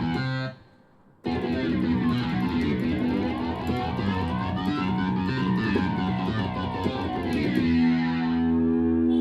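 Second texture layer of a snarling pig synth voice: a thick, distorted, effects-heavy growl with wavering pitch swells and reverb, loud and sustained after a brief gap near the start.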